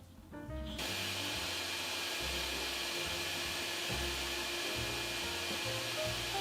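A dust extractor vacuum starts up with a quick rise and then runs as a loud, steady rushing hiss with a low hum, while sawdust is sucked up with slight shifts in the airflow.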